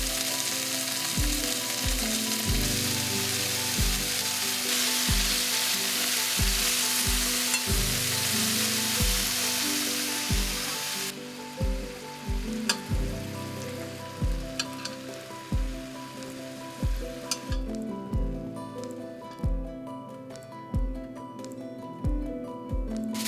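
Pieces of meat frying in plenty of very hot oil in a pan, making a loud, dense, continuous sizzle that later thins into crackling pops, with repeated low thuds from the pan throughout, close up and without speech.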